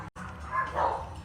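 Dogs fighting and barking during a church sermon, a short burst of close, loud barking and yelping that briefly cuts out and then carries on.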